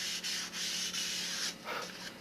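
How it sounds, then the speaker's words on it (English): Sandpaper rubbed over a balsa model airplane's wooden rib structure in long, steady strokes, a close, continuous scratchy hiss with brief pauses between passes. "Start putting our final sanding into this."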